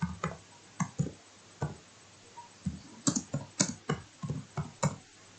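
Keystrokes on a computer keyboard while input values are entered into a MATLAB program: irregular bursts of sharp clicks, some isolated and some in quick clusters, close by against a quiet background with no talking.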